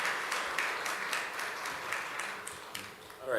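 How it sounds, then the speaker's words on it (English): A church congregation applauds for a pastor, a faint, steady patter of many hands clapping at a distance, rising slightly at the very end. "please clap for Pastor Moyo."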